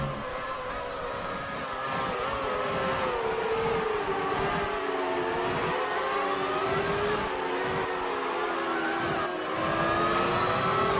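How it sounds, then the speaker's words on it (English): A 2007 Ferrari Formula 1 car in the F1 2019 video game laps the Shanghai circuit, its high engine note rising and falling through gear changes, steady and moderately loud without talk. "how about a lap in Kimi Raikkonen's 2007 Ferrari around Shanghai?"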